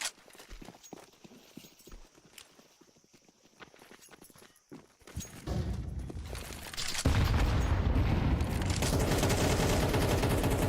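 AK rifle fire and grenade blasts in a competitive shooter match, starting as scattered footsteps and clicks, then swelling into loud, dense bursts of gunfire and explosions in the second half.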